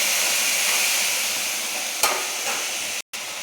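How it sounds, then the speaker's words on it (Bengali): Ground cumin, ginger, chili and tomato paste sizzles and hisses steadily in a hot pan while being stirred for a Bengali dhokar dalna, with a brief scrape midway. "মশলাটা কষিয়ে নিই।"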